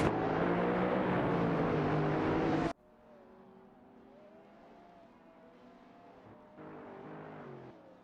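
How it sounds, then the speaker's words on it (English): A Lotus Exige and a Lamborghini Diablo VT in a racing video game: a loud engine roar abruptly cuts to a quieter, distant engine drone that swells again near the end. "It's a Lotus Exige against a Lamborghini Diablo VT in this exciting race dynamic."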